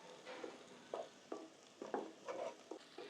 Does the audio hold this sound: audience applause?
no